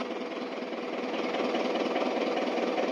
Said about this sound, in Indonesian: Dan mesinnya cukup halus untuk naik.